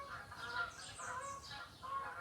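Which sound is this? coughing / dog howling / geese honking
geese honking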